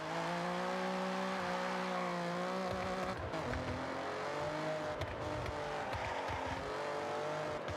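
Lexus LFA engine droning at a steady pitch that climbs and shifts with acceleration, heard at moderate distance and fairly faint, no talk.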